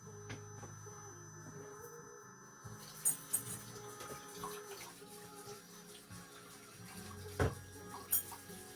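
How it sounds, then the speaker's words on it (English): Running tap water while hands are washed at a kitchen sink, a steady faint wash of flowing water with a few louder splashes and clinks, fairly close, no talk. "I'm just gonna wash my hands really quickly."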